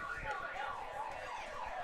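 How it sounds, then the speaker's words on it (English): Car alarm sound effect blared over the PA at a Guelph Royals vs. Hamilton Cardinals baseball game: a continuous warbling, wavering electronic tone held steadily for the whole stretch over a dull background. "Y'all gotta stop with that car alarm sound effect"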